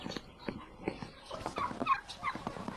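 Turkeys gobble and cluck in short bursts, fairly close, in a snowy farmyard, with some scuffling noises between calls and no talking.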